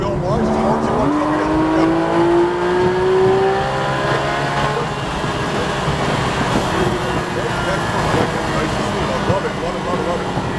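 A Porsche GT3 RS race car accelerating on the track at New Hampshire Motor Speedway, its engine note climbing steadily in pitch and then holding a loud, sustained roar, while a person talks over it.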